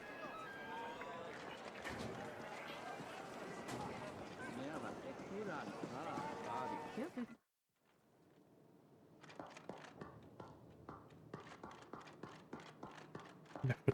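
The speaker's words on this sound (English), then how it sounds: "My footsteps are so loud." Character footsteps in the action RPG The Ascent, loud rhythmic steps under dense game music and sound effects at first, then continuing more clearly after a brief drop to silence, with a voice talking over parts of it.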